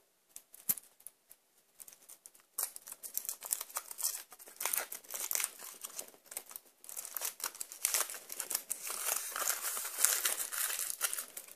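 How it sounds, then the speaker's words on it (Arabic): Foil wrapping is peeled and torn off a large Kinder Surprise Maxi chocolate egg, producing close, irregular crinkling and crackling bursts that grow denser and louder toward the end, with no voices. "نفتح القرطاس ونشوف"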